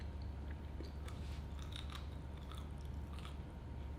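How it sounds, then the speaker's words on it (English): Close biting into crunchy fried chicken, a few crisp crackling crunches and chewing sounds over a quiet low background hum, with no talking. "This chicken is crunchy."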